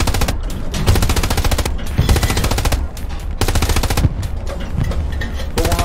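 Loud, rapid machine gun bursts from armored gameplay in Hell Let Loose, with heavy shots punctuating the chatter of fire in repeated sustained volleys, close and dominant, no talking.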